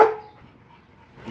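A single short dog bark in a backyard, sharp at the start, then fading into quiet ambient background.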